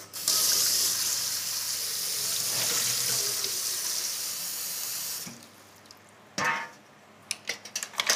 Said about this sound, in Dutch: Onze schelpen, mosselen en kokkels die gaan we nu goed spoelen in koud water.